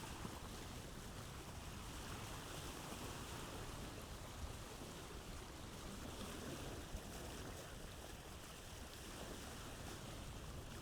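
A sailboat moves across open sea in the Vintage Story video game, a steady broadband wash of waves and wind rushing continuously at an even level with no voices.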